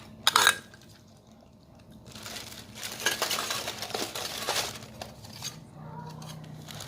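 Stainless steel pots and pans from a cookware set are set down, with a sharp metallic clatter at the start and then a run of clinks and knocks of metal on metal.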